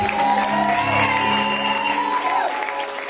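A church congregation applauds and cheers together, a sustained, loud crowd roar of clapping with whoops and shouting voices, close and filling the room throughout before easing slightly at the end.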